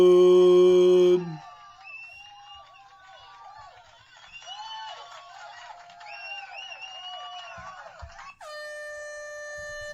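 A loud, sustained air horn blast opens, a busy crowd murmurs and whistles in between, and a second long horn blast sounds at the end.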